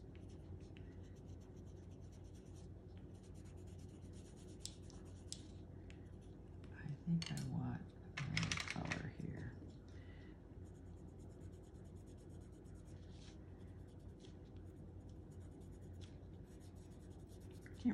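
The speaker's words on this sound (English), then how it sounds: "You can just make everything better with the pencil. You just go over it roughly." A pencil is scratched roughly back and forth over a painted drawing of the Gruffalo, producing continuous faint scribbling against a quiet room hum, with a slightly louder burst of strokes in the middle.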